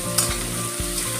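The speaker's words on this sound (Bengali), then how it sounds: "এবার আমি একটু নেড়ে চেড়ে নেব, একটু পেঁয়াজগুলো ভেজে নেব।" Chopped onions sizzle and fry in hot oil for a Bengali data shaag dish, with steady close frying hiss and a couple of soft stirring scrapes, no voices.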